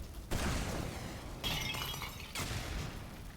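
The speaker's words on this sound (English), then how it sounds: "I like the explosions." Three loud, broad bursts of explosion-like crashing and shattering in the video game Aperture Desk Job, each lasting about a second, close and filling the clip with no talk.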